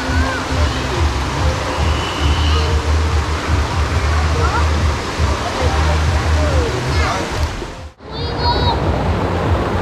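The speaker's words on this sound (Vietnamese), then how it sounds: "Thác này các bạn." Thác Bà waterfall in Tánh Linh, Bình Thuận, with people bathing nearby: a loud, steady rush of falling water fills the whole stretch, with faint voices and brief splashes mixed in and a short dip near the end.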